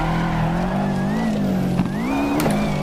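Rally car driven in the Dirt Rally video game, a loud continuous engine drone whose pitch rises and dips with throttle and gear changes, with brief skids and tire noise, no talk over it.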